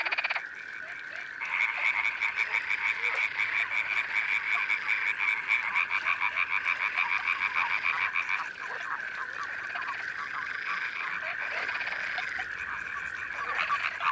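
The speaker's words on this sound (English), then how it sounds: "the frogs and toads are celebrating the arrival of spring" A dense chorus of frogs and toads croaks continuously at a lake in late March in La Brenne, many rapid overlapping calls forming a steady pulsing trill, fairly close and loud, with no voices.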